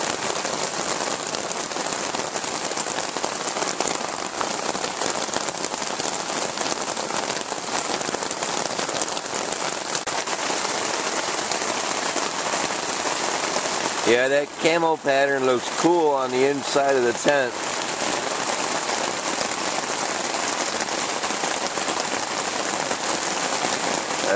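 Heavy rain drums steadily on a camping tent in a dense, unbroken hiss, loud and close throughout, while someone talks briefly partway through.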